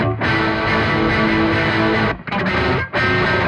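A guitar runs through a Laney Ironheart distortion model on the Aurora DSP, its range control set high so the low end is thinned. The dense, loud, sustained chords cut off twice with brief gaps.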